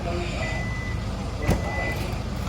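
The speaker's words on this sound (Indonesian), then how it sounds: "Hyundai Palisade pasti memiliki power back door" A steady electronic warning tone chirps from the power tailgate of a Hyundai Palisade SUV, a thin sustained beep heard nearby over low background noise, with a brief knock partway through.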